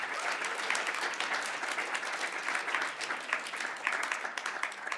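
Audience applause after a series of PechaKucha-style lightning talks, a dense, steady clapping from a sizable crowd that carries evenly through the whole stretch with no talking over it.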